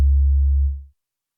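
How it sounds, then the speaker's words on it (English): A single low synth bass note comes from one oscillator set to a sine wave. It is a deep, pure, loud tone that holds steady for about two-thirds of a second, then fades out quickly into silence. "I honestly just needed one oscillator set to a sine wave because this is just going to be a very low end, type of sound."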